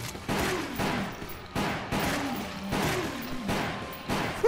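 Shotgun blasts in the light-gun game Resident Evil: The Umbrella Chronicles, several heavy booming shots at roughly even intervals, each with a sharp attack and a decaying tail, with a low droning game sound underneath.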